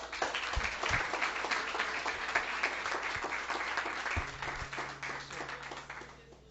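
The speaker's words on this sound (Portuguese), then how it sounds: "Vamos recebê-lo com uma salva de palmas." A church congregation applauding to welcome the pastor, sustained dense clapping from many hands that fades toward the end, with a low murmur of voices underneath.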